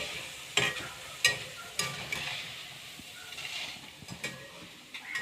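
Boondi batter dropped into hot oil in a large kadai, frying with a steady sizzling hiss punctuated by a few sharp clinks of a ladle or slotted spoon against the metal pan.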